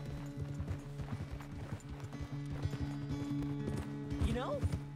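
Horse hooves clip-clop in a quick, steady rhythm as a rider gallops in Red Dead Redemption 2, with game music and character dialogue playing over the hoofbeats.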